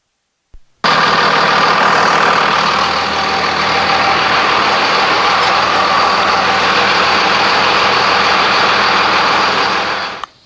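A Dodge Ram 2500 with the Cummins 5.9L turbo diesel starts and settles into a steady, loud, close idle with a dense rumbling clatter that runs evenly for about ten seconds before cutting off.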